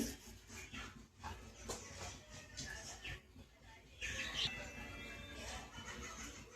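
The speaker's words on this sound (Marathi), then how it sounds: "आता मोहरी आपली तडतडल्या बघा" Mustard seeds crackle and pop in hot oil on a gas stove while tempering the spice base for stuffed green capsicum, with sparse, faint sputters over a soft, steady sizzle.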